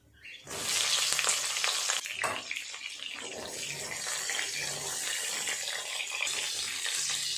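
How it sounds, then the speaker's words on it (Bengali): Pointed gourd frying in hot oil in a pan: a loud, continuous sizzle that bursts up suddenly as the pieces go in, then holds steady and close. "এই তেলে পটল আর আলুগুলো আগে ভালো করে ভেজে নেব।"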